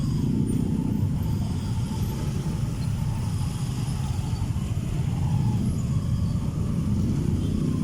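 Heavy road traffic on EDSA from Santolan to Ortigas: a dense, continuous rumble of cars and trucks with a faint hiss of air brakes in the mix, steady throughout and with no voices.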